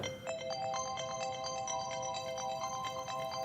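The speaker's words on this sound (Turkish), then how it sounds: "Oğlum telefonun çalıyor." A mobile phone ringtone plays a repeating bright electronic melody, fairly quiet and steady, with no voices.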